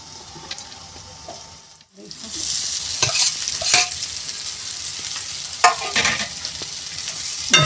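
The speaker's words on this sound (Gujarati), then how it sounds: "બરાબર મેશ કરવાના છે બટેકાને આવી રીતે." Boiled potatoes are mashed for aloo matar vada, making continuous squelching, scraping strokes against the vessel that swell loudly after a brief pause and carry on steadily.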